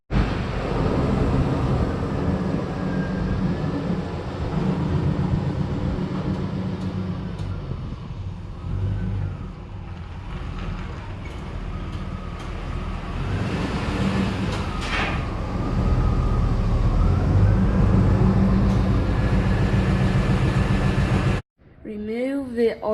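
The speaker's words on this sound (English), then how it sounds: "warm up the engine" A car engine idles steadily to warm up ahead of an oil and filter change, a low continuous rumble that holds for about twenty seconds before a brief break and some handling noise.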